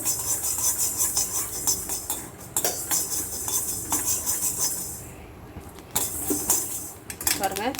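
Fenugreek seeds roasting in a pan over a low flame for a tamarind rice dish, stirred steadily with a metal spoon that scrapes and rattles in repeated close strokes, with a voice talking over it.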